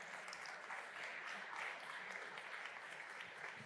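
Steady, dense applause from an audience at a Barcelona tech startup pitch competition final, sustained clapping with no break, evenly loud throughout.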